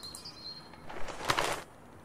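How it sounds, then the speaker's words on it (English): Black birds flapping their wings in the game Little Misfortune, a short soft flurry of wingbeats rising and fading over about a second amid faint chirps. "these black birds"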